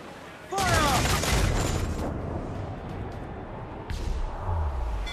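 Heavy ship cannons on a sailing vessel fire in a loud broadside during a naval battle in Assassin's Creed IV Black Flag, booming at about half a second, rumbling on, then another blast near four seconds, with faint voices shouting underneath.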